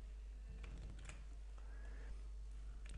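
Computer keyboard typing while an email account is set up in Outlook, a quiet run of scattered keystrokes over a low steady hum, with no talking.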